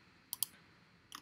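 Computer mouse clicks while working in Final Cut Pro editing software: a quick double click near the start, then a short cluster of clicks after a quiet pause, crisp and close.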